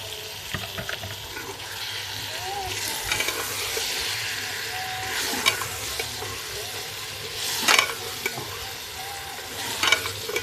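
Brinjal and potatoes are stirred and fried together in a pan, giving a continuous close sizzle with scraping and clattering stirring strokes and a few louder bursts, with no talk.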